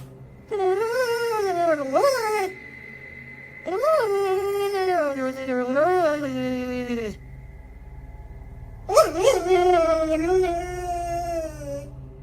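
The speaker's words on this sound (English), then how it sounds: "He's seen in the video staring at something and whining for several minutes." A dog whines in long, rising and falling wails, three drawn-out bouts separated by short pauses, loud and close with a faint steady tone in the background.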